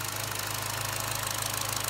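Turbocharged Chevy Cruze engine idling steadily after a restart following a valve cover and PCV regulator repair, a loud, even mechanical hum with fine rapid ticking throughout and no talking.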